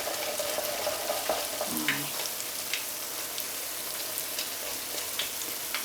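Gluten-free churro dough frying in hot oil while a wooden spoon stirs and taps against the firming dough, giving a steady close sizzle with scattered soft knocks and scrapes, no talking.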